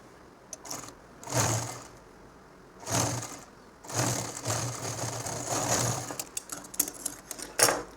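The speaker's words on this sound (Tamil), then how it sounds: "இந்த பாதியை இப்படி தைக்கணும்." A sewing machine stitches a nightdress at home in short bursts of whirring, rattling motor runs, each lasting about a second or two, with quiet pauses between them and a longer continuous run near the middle.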